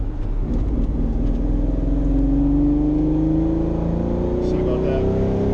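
A Ferrari Testarossa with a redone electrical system accelerates hard to overtake a RAV4, its engine droning loud and steady from inside the car as the pitch climbs gradually throughout.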